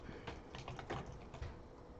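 Fast, irregular clatter of keys as code is typed on a computer keyboard, close and moderately quiet, a run of light taps with a few heavier strokes and no voices.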